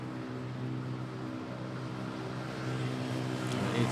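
A Cebu Pacific Airbus A321neo airliner departs Manila airport, its jet engines giving a steady, continuous roar with a droning hum that swells slightly toward the end, heard from a distance.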